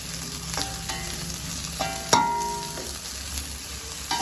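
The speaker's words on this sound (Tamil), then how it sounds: "எல்லாத்தையும் வதக்குவோம்." Chopped vegetables and leeks fry in an oiled pan for noodles, a steady close sizzle broken by several sharp scrapes and clanks as a spoon stirs them, with no talking.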